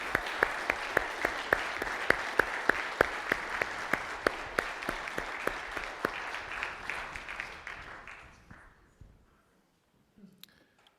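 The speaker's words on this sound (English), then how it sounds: "A big applause for that." Applause from a seated audience at a talk on free-market economics, a steady wash of many hands with sharp individual claps standing out, holding for about eight seconds before thinning and fading into near silence.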